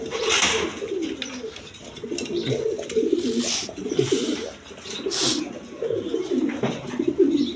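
Red pigeons coo repeatedly in low, throaty rolling calls, close by, with several birds overlapping and occasional rustling or flapping.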